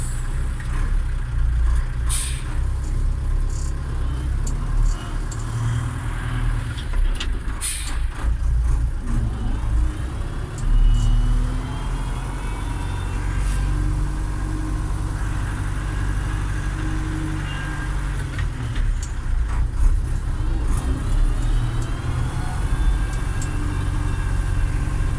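MB Trac 900 Turbo tractor engine on the move, a loud, steady low rumble and drone that holds throughout with slight swells and a few clunks and rattles from the cab, no talking.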